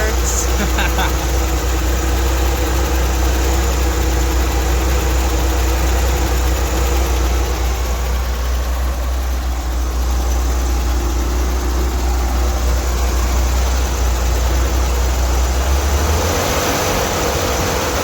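Chevrolet Corvair engine running after an idler pulley replacement, with an oil leak: a steady, loud, close rumble throughout, with faint voices now and then.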